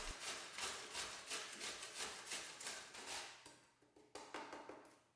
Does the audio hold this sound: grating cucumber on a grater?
yes